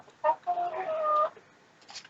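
Several chickens in a coop give short clucks and drawn-out squawking calls, close and fairly faint, with brief pauses between bursts and no talking.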